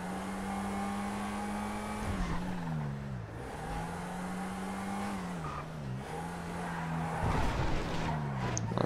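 A tuned, turbocharged boxy VW Gol in GTA V skids and scrapes with a sustained engine drone, its pitch sliding up and down through repeated skids, with louder scraping bursts near the end.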